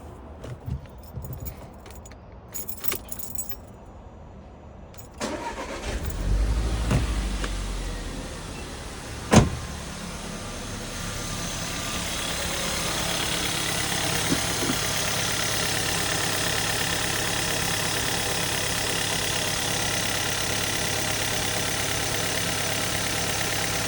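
An Audi A1 is started after some key jangling and handling noises, cranking and catching, then settling into a steady close idle hum with no talking.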